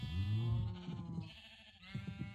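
Sheep bleat in a video game on a Minecraft-style Cherry Vanilla server, one long close bleat followed by a shorter second call, loud and alone.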